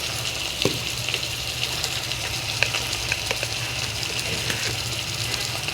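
Spice paste of garlic, cumin, chilli, turmeric and coriander fries in oil with a soft, steady sizzle and occasional small pops and stirring scrapes, fairly quiet and with no voices.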